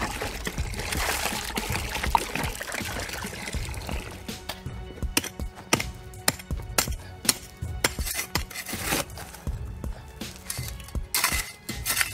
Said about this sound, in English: So we'll get some water and put in that.